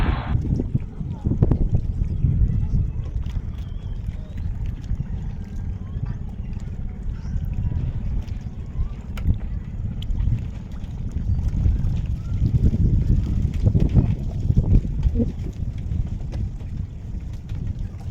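A boat rides out on the open sea with a steady rumble of wind and water rushing against the hull, and voices talk over the noise throughout.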